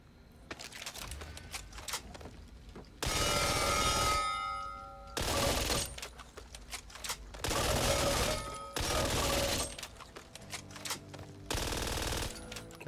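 Kriss Vector submachine gun in Back 4 Blood firing in several loud, rapid full-auto bursts, each lasting one to two seconds with brief pauses between, alone with no talk.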